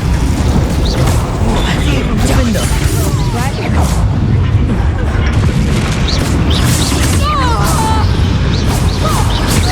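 Fiery spell blasts from the Confringo curse in the wizarding game Hogwarts Legacy, a dense run of loud booming impacts and crashes over constant combat noise and game sound effects, with voices talking throughout.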